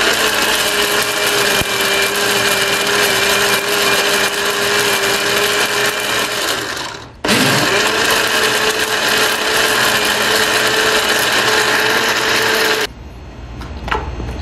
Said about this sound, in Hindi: तो चलिए अभी हम इसको दोबारा से ग्राइंड कर लेते हैं।